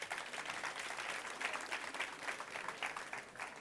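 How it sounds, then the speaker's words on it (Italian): Applause from the audience at the final of a youth singing contest for young Sicilian talents, a continuous, even rattle of many clapping hands, moderately distant and fairly quiet. "Un applauso anche per lui."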